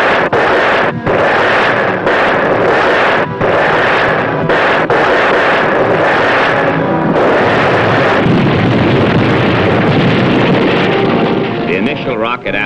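Rockets launch from the submarine USS Barb in a rapid series of loud, close blasts and whooshes against wind and engine noise, and the roar continues afterward as a dense rumble.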